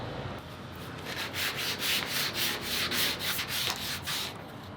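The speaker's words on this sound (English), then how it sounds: "check if before the next coat that 1000 grit sandpaper won't destroy the paint" Close scratchy rubbing of 1000 grit sandpaper across painted bike parts on a dirt jump bike build, in a quick rhythmic series of back-and-forth strokes, loud and alone.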